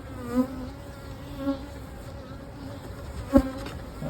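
Honey bees buzz around growing beehives, a steady low insect drone with a few brief louder passes as single bees fly close, and no talking.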